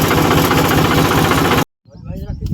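A loud, steady Mahindra 275 tractor engine idles close by in a farm field, then cuts off abruptly into near silence before quieter rumbling and faint sounds return.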